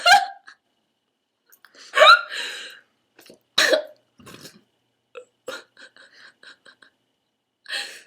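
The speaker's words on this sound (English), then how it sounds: "Burp." Several loud, close burps during a burping contest after sips of a drink, short guttural bursts spaced out over the clip, with soft breaths and murmurs between them.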